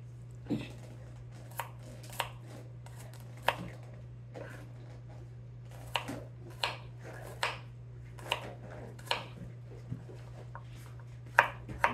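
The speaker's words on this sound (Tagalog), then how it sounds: "Naghiwa na tayo ng garlic." Garlic being chopped with a knife on a cutting board while cooking, a series of crisp, irregularly spaced chops close by over a steady low hum, no talking.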